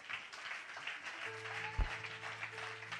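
A church congregation applauds at a steady, fairly soft level. A sustained low keyboard-like tone runs beneath the clapping, with one brief thump partway through.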